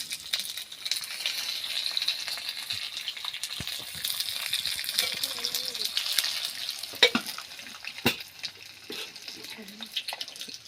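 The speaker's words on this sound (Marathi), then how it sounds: "एकदम ठणठणीत आता फोडणी द्यायचं काम चालू आहे." Garlic and cumin tempering sizzles steadily in hot oil on a stone griddle, a continuous bright frying hiss with a few sharper crackles, fairly close and alone throughout.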